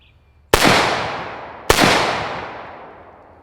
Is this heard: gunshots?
yes